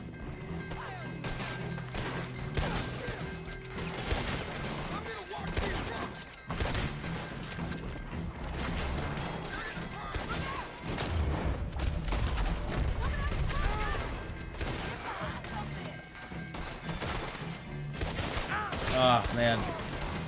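Repeated gunfire fills a Red Dead Redemption II fight, with bursts of shots, crashes and impacts coming in clusters, both close and farther off, under scattered shouting voices.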